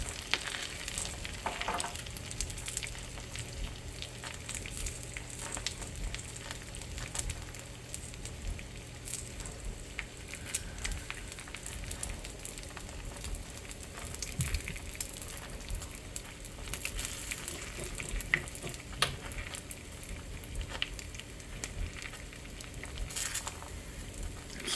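Food with pepper frying in a restored Parini 10-inch cast iron skillet, a steady close sizzle with soft crackles and spits running throughout.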